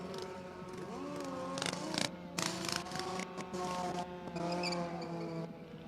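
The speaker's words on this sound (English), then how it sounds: "I need to rev your bike up, make sure it's ready" Motorcycle engine revved hard at a drift pit event, loud and close, with pitch climbing and falling across repeated throttle blips and a steady growl between them.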